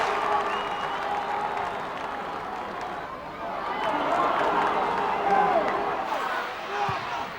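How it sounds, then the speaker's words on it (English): Big crowd at an All-Ireland Senior Football Championship Gaelic football match roars and cheers, a broad wash of noise swelling midway, with a commentator talking over it. "What a huge cheer."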